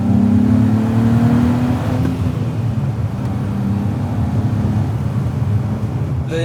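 A 2024 Nissan Z RZ34 with a manual gearbox pulls hard under acceleration, its engine note loud and close, climbing in pitch and then settling into a steady droning roar with no voices over it.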